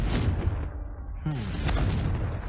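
Confringo fire-blast spell cast during combat at a goblin dig site in Hogwarts Legacy, heard as loud booming bursts with crackling impact debris, a brief lull, then another blast swelling over game music.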